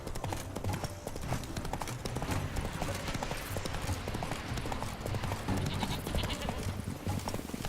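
Roach the horse gallops in The Witcher 3, hooves pounding in a fast, steady clip-clop rhythm close up, with busy game ambience and brief voices underneath.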